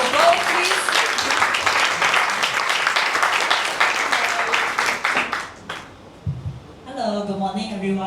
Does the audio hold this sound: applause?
yes